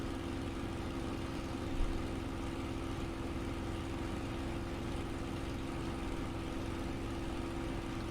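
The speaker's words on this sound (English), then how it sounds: "Let's open up the cockpit and hear those engines roar." Aircraft engines droning steadily in a flight game flying over northern Scotland, a constant even hum at moderate level with no breaks.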